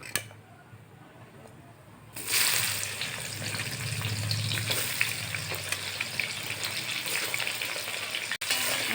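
Bay leaves, whole garam masala, cumin, coriander seeds and dried chillies fry in hot oil, a soft hiss that suddenly rises into a steady, close sizzle with light crackling after the first two seconds.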